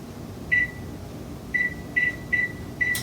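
Five short electronic beeps from a kitchen oven being set to preheat to 400 degrees, spaced irregularly over a quiet low hum, each a clear mid-pitched tone, the last cut short by a brief noise burst.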